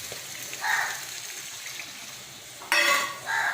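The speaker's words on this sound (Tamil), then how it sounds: "இதில் கொஞ்சம் தண்ணி ஊற்றி அடக்க வைக்கலாம்" Water splashes into a hot pan of goat lung kurma with chili powder in a couple of hissing gushes over steady, close sizzling.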